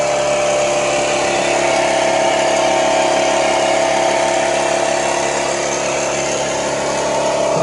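A smoke generator runs during a boost leak smoke test on a Porsche Cayenne Turbo 955, giving a loud, constant motorized drone and hiss close by that holds level throughout.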